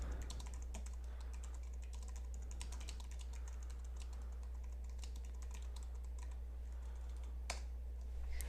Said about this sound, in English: type our new text